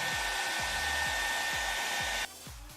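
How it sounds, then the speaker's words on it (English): A hair dryer blowing steadily up close, with a bright whining airflow and a low rhythmic pulsing, then dropping abruptly in level near the end as it is switched down or moved away. "I'll go heat it up with the hair dryer"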